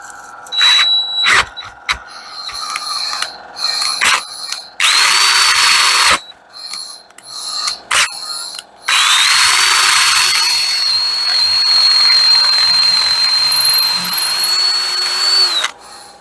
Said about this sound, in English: And then we're going to drill this hole.